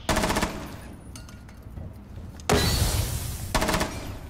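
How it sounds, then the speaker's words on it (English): Bursts of M249 machine gun fire in Rainbow Six Siege: a loud rapid burst at the start, then a longer sustained burst and another short one near the end, with quieter gaps between. "Wait, is the guy using M249?"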